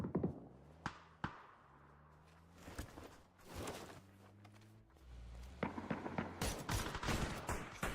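Rapid bursts of gunfire crack through a competitive shooter video game match, with sharp repeated shots in clusters, some close and loud, others trailing off, over a low droning in-game background.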